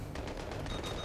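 Rapid bursts of gunfire from Jeeps in the Battlefield 3 video game, a dense, steady rattle of repeated shots running continuously at moderate loudness with no voices.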